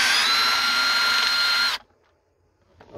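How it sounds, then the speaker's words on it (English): A power tool with a 10 mm deep socket removes a nut on a 2003 Ford Expedition XLT fuse box, whirring loud and steady at close range for nearly two seconds before cutting off abruptly into near silence. "Okay, I'm using my power tool."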